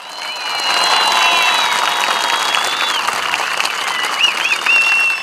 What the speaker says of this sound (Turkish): Tekirdağ'dan güçlü alkışlarınızla selam gönderelim.